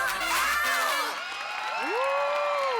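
Cheering and applause from a TV idol show studio audience after a live music performance, with screams and whoops rising over clapping and a few bright high-pitched yells sliding up and down.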